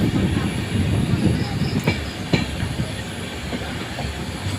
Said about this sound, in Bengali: এই যে ট্রেনটা অনেকটা এখন রাউন্ড হচ্ছে বা সাইডে।